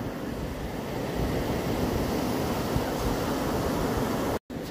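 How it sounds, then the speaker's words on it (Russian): Sea waves wash steadily onto the shore at Dumpton Gap, a continuous broad roar of surf with light wind, close and fairly loud, briefly cutting out near the end. "И море, море наступает."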